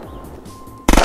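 A quiet, hollow background gives way to a sudden loud burst of rapid gunfire at the end, close and punchy, in the video game Unturned.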